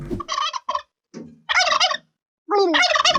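Domestic turkeys gobbling on a 50-hectare farm in Podlasie, Poland, kept alongside cattle, horses, geese, hens and ducks; several loud, close bursts of rapid rattling gobbles separated by short pauses.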